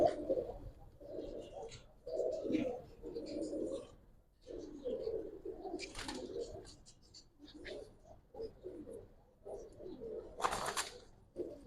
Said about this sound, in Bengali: দেখেন কবুতর আলহামদুলিল্লাহ অনেক সুন্দর কবুতর